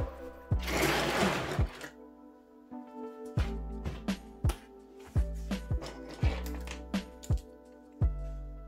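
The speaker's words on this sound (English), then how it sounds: "My printer is super fast." A fast 3D printer at work, its stepper motors buzzing and whirring in quick repeated bursts with short pauses between moves, steady and close with no talking.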